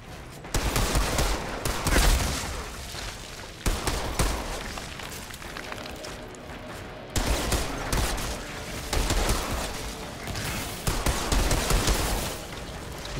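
Pistol gunfire rattles in rapid, sustained bursts during a boss fight in the video game Outriders, loud and dense, with short gaps between volleys and a brief lull midway.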